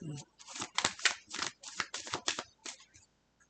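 Tarot cards dusted with talcum powder shuffled by hand in a series of quick crisp riffling bursts, close and fairly loud, with no one talking.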